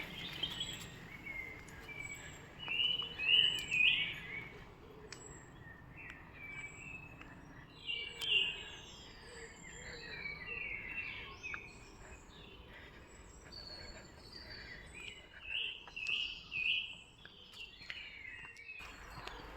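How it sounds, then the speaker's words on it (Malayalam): Birds chirp and sing in short, bright bursts in a quiet, thick forest park, fairly distant over a low, steady hum of insects, with no talk. "നമ്മൾ മിണ്ടാതിരിക്കുമ്പോൾ ആ കിളിയുടെ ഒച്ച നോക്കിയേ"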